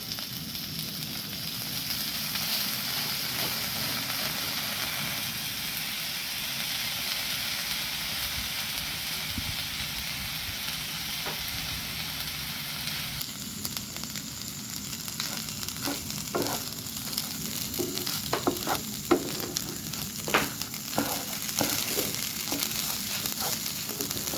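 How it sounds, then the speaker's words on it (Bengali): Rice and mung dal fry in a little oil for a simple mung pulao, giving a steady close sizzle that grows busier partway through, with scattered scraping stirs and clicks of a spoon. "আমি পোলাও চালটা আর মুগ ডালটা একসঙ্গে দিয়ে দিচ্ছি"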